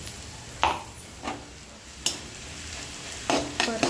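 Fried chillies and crushed peanuts are sautéed in a pan, a soft background hiss broken by a few sharp scraping stir strokes, clustered more densely near the end, with no speech.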